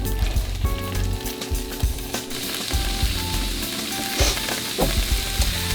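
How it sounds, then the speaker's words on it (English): Chopped onions sizzle and crackle steadily in a hot pan for beef stroganoff, close and loud, with occasional stirring clatter and no talking. "now we're gonna take the onions and put the onions in the pan"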